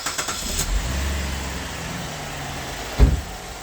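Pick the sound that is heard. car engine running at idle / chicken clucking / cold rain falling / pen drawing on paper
car engine running at idle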